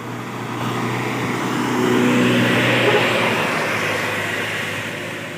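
A Nissan Condor container truck labours uphill on a mountain road, its engine drone rising and strengthening over a few seconds, then holding steady without voices.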